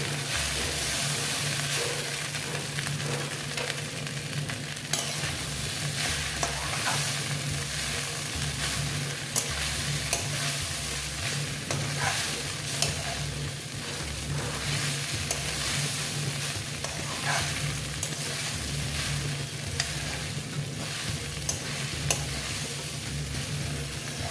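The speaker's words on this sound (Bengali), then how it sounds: "দিয়ে এবার আমি এটাকে ভালো মতো মিক্স করে নিচ্ছি" Poha (flattened rice) being stirred and mixed in a frying pan, a steady sizzle with repeated scraping and clinking strokes of the spatula, close and continuous throughout.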